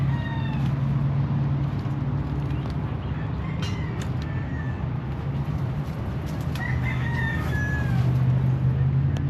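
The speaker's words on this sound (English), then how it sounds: "Oh, the chicken's still in here." A chicken crows and clucks inside an abandoned 1929 Ford Model A that has sat unmoved for decades, with short calls rising over a steady low background hum throughout.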